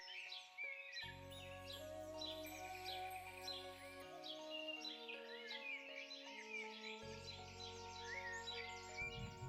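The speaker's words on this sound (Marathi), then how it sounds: "पक्ष्यांचा आवाज बघ कसा येतोय" Several birds chirp and call outdoors in open air, bright overlapping tweets continuing steadily throughout over a constant low background tone.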